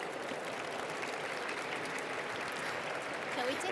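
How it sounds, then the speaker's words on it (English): An audience at a climate panel session gives a steady, even wash of clapping that holds through the whole stretch without a break. "Please give them both a warm round of applause."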